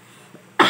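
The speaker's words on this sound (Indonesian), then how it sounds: "Kebetulan saya lagi kena batuk" A single sharp cough from someone who has a cough, loud and close after a quiet stretch.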